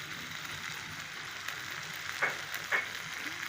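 Raisin-studded filling for stuffed pointed gourd (potoler dorma) fries in a pan, giving a steady close sizzle with a couple of brief scraping stirs near the end.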